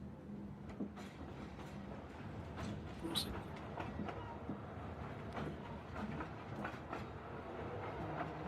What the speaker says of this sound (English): an old-timey railroad, steam engine railroad